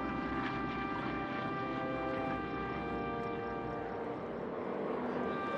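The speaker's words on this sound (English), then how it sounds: "Here come the three T-6s. Formed up, looking great for a nice flyby." Three WWII-era T-6 trainer aircraft fly past in formation at an outdoor air show in Caldwell, Idaho, their radial engines giving a steady, moderately distant propeller drone that holds throughout with broad rumbling noise.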